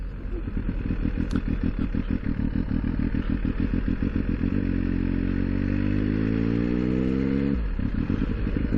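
A cold motorcycle engine runs steadily while riding away from a quay, a loud close throbbing drone with dense rhythmic pulsing that climbs in pitch as it accelerates, then drops at a gear change.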